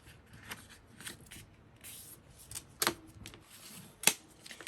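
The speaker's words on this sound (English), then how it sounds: "And now I'm going to fold that over." Paper rustles softly as it is creased and folded over to make a dusty rose envelope journal, with light scraping and two sharp crisp snaps of the crease, close by and fairly quiet, without talking.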